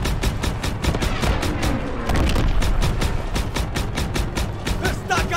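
Rapid gunfire rattles through a Call of Duty WW2 battle, a loud, dense stream of evenly spaced shots with booms mixed in, running without a break from start to finish.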